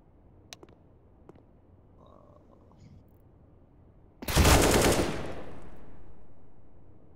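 A sudden loud burst of gunfire from CS:GO erupts midway after near silence and a few faint clicks, followed by a lingering echoing tail that fades slowly.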